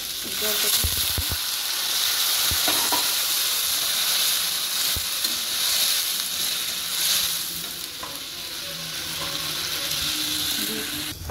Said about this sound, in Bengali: এবার ঝোলটা দিয়ে দিচ্ছি একটু গরম করে নিয়েছি জলটা